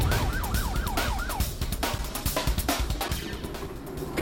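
An ambulance siren crossing Avenida Beira-Mar, a loud, close warbling wail that cycles quickly for about a second and a half before breaking into sharp, choppy pulses against road noise.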